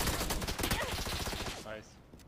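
Rapid video game shooter gunfire crackles in a dense burst for about a second and a half, then trails off into fainter shots, with voices chattering underneath.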